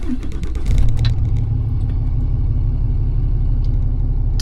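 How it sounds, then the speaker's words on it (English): A 5th-generation Ram 2500/3500 pickup engine cranks and fires, then settles into a steady, deep, rumbling idle, loud and close, with no talking. "since the truck isn't running, I guess I could start it, show you guys that"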